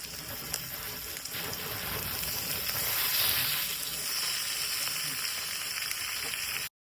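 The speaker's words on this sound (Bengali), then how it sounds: "এবার দিয়ে দেবো চিকেনগুলো। আগে থেকে ধুয়ে রাখা চিকেনগুলো দিয়ে দেবো।" Chicken pieces sizzling loudly in a pan of fried onion, garlic, ginger, tomatoes and green chilies, a dense crackling hiss that swells midway and runs steadily until it cuts off abruptly.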